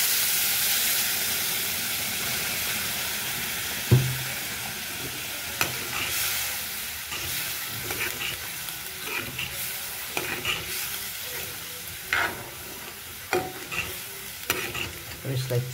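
Meat curry with added gravy cooks in a pan, a steady hiss of bubbling and sizzling broken by recurring scrapes of stirring, close and fairly loud.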